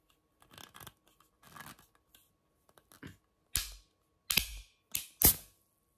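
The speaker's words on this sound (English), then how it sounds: "Did you hear that pop? That's the can." A Japanese Coca-Cola can is handled with soft clicks and crinkles, then gives several sharp, loud cracks and pops close up as the lid is worked open.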